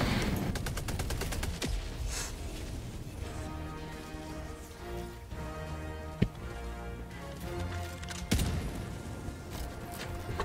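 Sentry turret in the game Helldivers 2 fires rapid automatic bursts, a dense rattling stream of shots that runs for several seconds with a few louder bangs, heard from close range.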